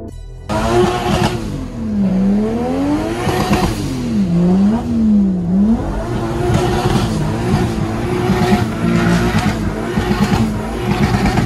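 A Toyota DX with a self-assembled 4AGE 20v engine revs hard through repeated rising and falling sweeps during a drift exhibition, tires squealing, loud and continuous throughout.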